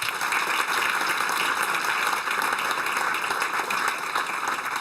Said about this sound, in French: Merci d'accueillir aussi, par vos applaudissements, Richard Mille.